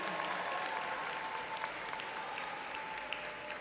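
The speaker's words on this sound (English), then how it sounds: "give them a round of applause for their continued support and encouragement during this journey" Steady applause from a large audience at a Chamberlain University commencement ceremony, dense continuous clapping throughout, moderately distant and even in level.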